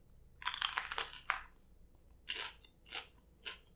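Someone crunches into a Popeyes Hot Cheeto chicken sandwich up close, with a quick cluster of crisp bites followed by three slower, separate crunchy chews amid quiet pauses.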